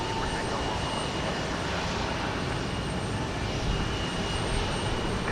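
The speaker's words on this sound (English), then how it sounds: "There's another Embraer 145. This one going to Lafayette, Louisiana." A United Express Embraer 145 regional jet at Houston Intercontinental Airport gives a steady, broadband jet roar with an even, distant-sounding whine that holds unchanged and fairly faint throughout.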